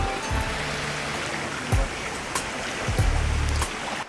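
Water rushes steadily through a creek at the bottom of an Arizona canyon, a continuous close wash with a few soft low hums and bumps underneath, and no talking.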